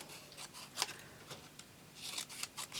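Scissors snip through paper for a handmade card, a series of faint, quick cuts spaced irregularly, close and quiet with no talking.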